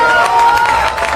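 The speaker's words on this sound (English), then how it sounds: "So the crowd likes the ceasefire talk" Crowd at a political rally cheering and shouting after a call for an immediate ceasefire in Gaza, a steady roar of many voices with a sustained whoop running through it, loud and continuous.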